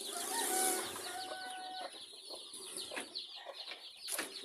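Several chickens, including a white hen, cluck close by in a farmyard, with repeated short clucks and a few drawn-out calls.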